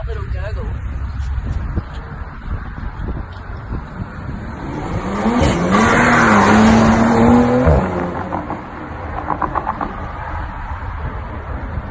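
A Bentley Continental GT's engine rumbles at close range and swells into a rising rev that fades back down, with a voice talking over parts of it.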